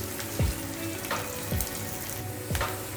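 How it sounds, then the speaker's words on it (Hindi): Garlic and ginger fry in a little oil in a pan, a continuous soft sizzle broken by a few clinks and scrapes as they are stirred. "तो अभी हम ये लहसुन और अदरक ये भी हम डाल देते हैं। डाल के अच्छी तरह भूनना है।"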